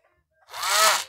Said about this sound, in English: Now, watch, I'm going to start this drill up.